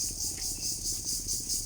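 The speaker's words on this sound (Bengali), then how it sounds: "অনেক ঝিঝি পোকার আওয়াজ" Crickets chirp steadily in a village garden, a dense high pulsing trill that continues throughout, moderately loud with no talk.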